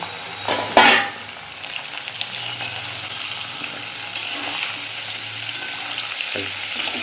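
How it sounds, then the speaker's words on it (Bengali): Large prawns sizzle and fry in spiced oil in a home kitchen, a continuous crackling hiss with an early sharp burst of stirring and spatter, then steady frying with occasional scrapes. "মশলা রয়েছে ভালো করে নেড়ে দিচ্ছে এই চিংড়ি দিয়ে দিলাম বড় বড় চিংড়ি"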